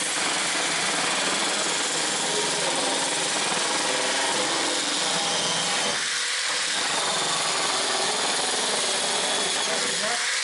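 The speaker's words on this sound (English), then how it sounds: "So we can take the drill." Power drill running continuously in a workshop while a sanding cabinet is being modified, a loud, dense, steady whir and grinding close by with a brief dip partway through, no speech.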